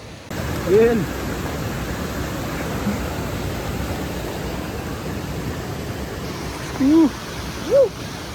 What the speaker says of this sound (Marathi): ये हा आहे छोटासा मिनी वॉटरफॉल.